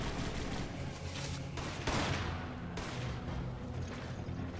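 Dense gunfire and explosive blasts in Resident Evil 5 gameplay, a steady loud barrage with a heavy burst near the middle, continuous throughout with no talk.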